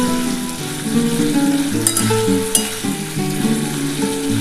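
Drumstick (sojne data) and potato curry sizzles and fries steadily in a pan, a continuous loud crackle with a couple of brief sharp splashes as a little water goes in.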